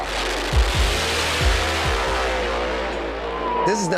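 A Procharger-boosted drag race car roars loudly with a broad, harsh engine drone, punctuated by several quick low thumps and revs early on before the sound settles into a sustained blare.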